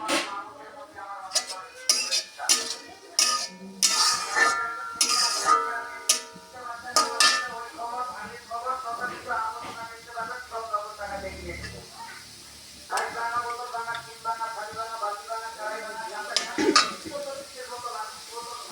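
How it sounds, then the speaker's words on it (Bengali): Grated coconut stirred in a wok on a stove, with a spatula scraping and clinking in quick irregular strokes while someone talks over it. "চুলাতে এখন কড়াইয়ে দিয়ে দেব নারকেল,"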